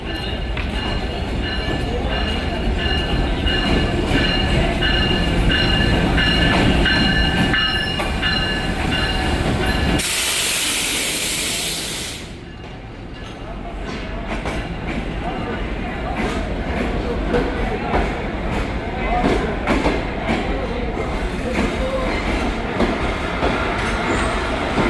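A train at Jhelum railway station rumbles and clatters steadily with wheel noise, then a loud hiss bursts out briefly before the rolling clickety-clack carries on, while a voice talks over it.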